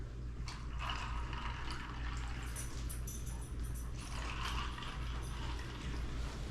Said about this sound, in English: Straight into the mixer.